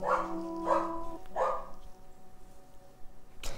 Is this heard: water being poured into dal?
no